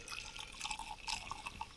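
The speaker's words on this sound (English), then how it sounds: "But I'm just going to pour it. I'm assuming that the coffee's already been pushed down." Coffee poured from a pressed plunger pot into a cup outdoors on a walking trail, a faint, steady trickling with light dripping splashes throughout, no talking.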